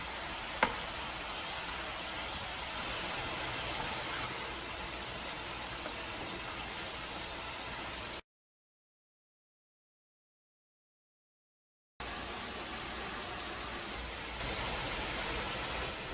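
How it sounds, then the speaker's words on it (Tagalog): Glutinous rice twisted doughnuts frying in hot cooking oil, giving a steady, even sizzle and crackle throughout with a brief gap of silence partway. "If the cooking oil is ready, start to fry the donuts for 3 minutes."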